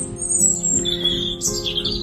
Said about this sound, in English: I just love coming out here and the birds